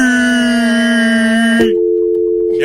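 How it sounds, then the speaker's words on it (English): A steady electronic telephone tone holds for about a second and a half, then abruptly shifts to a lower, duller continuous tone. "If one of you gets your questions wrong, dial tone."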